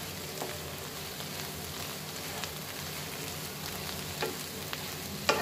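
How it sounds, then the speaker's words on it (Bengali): Sliced snake gourd fries in a pan, a soft steady sizzle with faint crackles and a few light clicks of stirring, heard alone at low level. "পানি হয়ে গেছে ভাজি, কত সুন্দর ভাজা ভাজা হচ্ছে"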